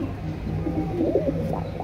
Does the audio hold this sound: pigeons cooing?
yes